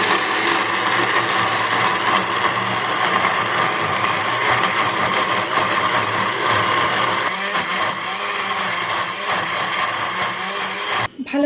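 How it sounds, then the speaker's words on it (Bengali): A kitchen blender grinds green mango with salt and a little water, a steady loud whirring motor drone that runs continuously with slight load changes and stops abruptly at the very end. "এবার ঢাকনাটা ভালো করে লাগিয়ে ব্লেন্ডার অন করে মিহি করে নিলাম।"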